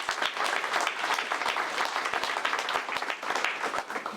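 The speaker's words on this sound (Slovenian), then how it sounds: "Še en aplavz za izvajalce." An audience applauds at an outdoor ceremony in the Park of Military History after two songs sung in Pivka dialect: dense, steady clapping that holds at an even level throughout.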